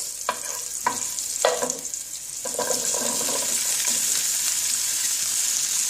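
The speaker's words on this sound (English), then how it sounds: "Now I'll be adding all the other vegetables." Vegetables cut into thin long pieces drop into a hot pan with browned ginger and green chili, landing in several quick clattering hits before a steady, close sizzle of stir-frying takes over.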